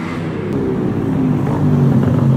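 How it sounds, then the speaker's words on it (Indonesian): A motorcycle with a loud, throaty exhaust rumbles past, engine droning and swelling slightly as it goes by, with no talking. "Barusan ada motor lewat, knalpotnya kenceng ya."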